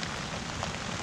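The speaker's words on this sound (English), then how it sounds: "Oh, it's wet. It's raining." Steady rain patters on a wild campsite beside a flooded river, a dense, even hiss with no voices.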